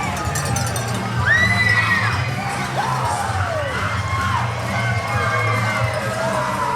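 A wrestling arena crowd cheers loudly as hometown wrestlers make their entrance, a dense roar of shouting, whoops and screams held constant and close throughout.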